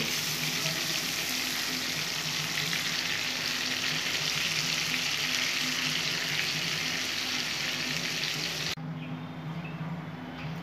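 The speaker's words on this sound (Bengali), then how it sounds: "এরকম করে আমি সব চিংড়ি মাছগুলো ভেজে নেব" Prawns fry in hot oil with a dense, loud, continuous sizzle and bubbling that stays steady throughout, then drops slightly near the end, with no talking.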